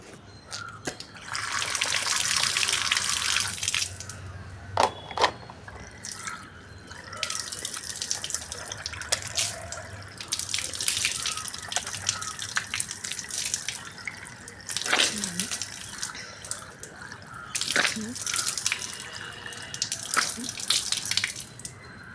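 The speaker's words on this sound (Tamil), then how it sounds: "ஃபேஸ் வாஷ் பண்ணியாச்சு" Water runs from a tap in intermittent bursts during face washing, with splashes and drips between the flows and quieter pauses, heard close up.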